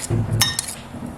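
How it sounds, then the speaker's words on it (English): A knife clinks and scrapes against a pan while garlic butter is being made, with a sharp metallic clink standing out near the middle of a short, fairly loud burst. "I'll just use this knife to, oops, kind of scrape that"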